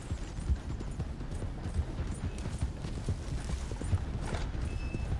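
Hooves clip-clop steadily at a quick pace in the video game Red Dead Redemption 2, with a continuous low rumble behind them.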